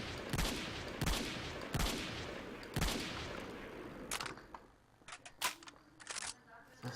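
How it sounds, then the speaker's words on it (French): Rapid sharp gunshots from an SVD sniper rifle in a Garry's Mod DarkRP game, several loud reports with decaying tails, followed by quieter clicks and handling sounds, with someone talking in French. "SVD, ça c'est le meilleur sniper que vous pouvez avoir. Ça tire en rafale, mais un truc de fou."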